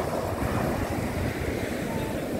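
Strong sea waves surge against the shore in a dense, continuous roar mixed with wind buffeting the microphone, loud and close throughout.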